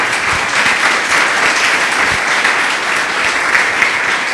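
A church congregation claps hard in dense, loud, continuous applause for the whole stretch, with no voices standing out.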